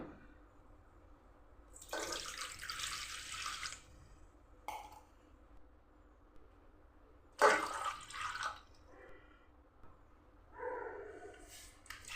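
Water splashes and pours into a pot of pearl millet in a few separate bursts, a couple of seconds each, with quiet pauses between; close and moderately loud.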